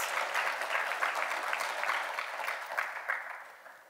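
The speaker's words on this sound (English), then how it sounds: "I would give them a round of applause." A crowd at a robotics conference claps in a steady burst of applause that gradually fades toward the end.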